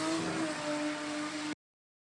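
A Toyota Supra accelerates down a drag strip at a night drag racing event, a steady droning engine note heard from a distance for about a second and a half before it cuts off abruptly.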